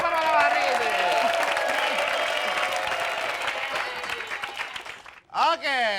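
An audience at an Indonesian comedy cabaret applauds steadily while a voice talks over the clapping, then the applause fades and speech carries on alone.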